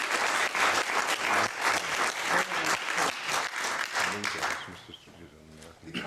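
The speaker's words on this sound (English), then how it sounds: "I think that it deserves some applause." Audience at an academic Jaina studies workshop breaks into sustained, dense applause that fills the room, with a speaking voice entering over it as the clapping thins toward the end.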